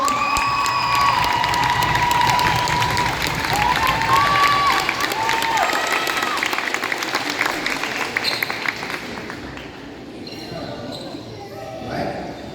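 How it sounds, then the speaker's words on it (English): At a school senior night in a gym, a crowd claps and cheers loudly, the applause swelling with whoops and shouts, then thinning and fading over several seconds as a basketball bounces and voices carry beneath. "a big round of applause for LaQuation Tuck"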